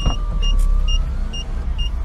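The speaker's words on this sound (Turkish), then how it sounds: "Arabayı çalıştırıyorum, klima açıyorum." Inside a hot parked car as the engine runs and the air conditioning comes on: a loud, steady low rumble and fan blow, with a short repeating electronic chime beeping several times.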